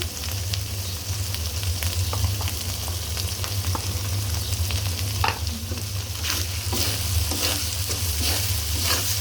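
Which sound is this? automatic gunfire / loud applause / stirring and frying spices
stirring and frying spices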